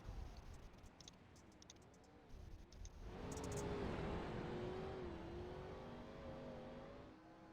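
A Renault race car runs a qualifying lap on a dirt oval, its engine droning and then swelling louder as it powers down the straightaway, with a steady rising and falling whine. The sound is distant and fairly faint, and no voices are heard.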